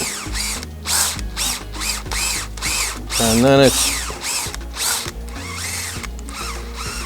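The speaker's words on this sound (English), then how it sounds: "if you're not careful and you drill too fast, you'll work harden the top of the rivet" A power drill whirs in repeated bursts as it drills out stainless steel rivets on a Ford RS200 tub, pausing between pulls, with a brief high screech midway and a few words spoken.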